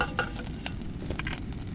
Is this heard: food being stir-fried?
yes